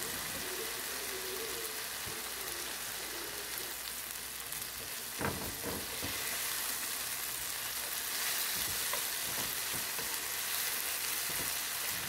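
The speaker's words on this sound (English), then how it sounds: "And I continue to stir it nicely until it's done." Steak pieces stir-frying in a pan over medium high heat, a dense continuous sizzle with occasional spatula scrapes and knocks against the pan.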